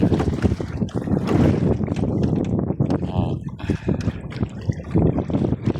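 Gusty sea wind buffets the microphone in rough, uneven bursts while someone talks over it.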